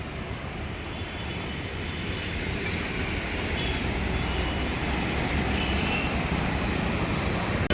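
A metro train rolls past at a station in a steady, loud broadband rumble that holds for the whole stretch, with no voices over it.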